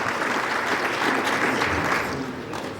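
An audience at a Nigerian accountancy fellowship ceremony applauds, a dense, even wash of many hands clapping that holds steady throughout and eases slightly at the close.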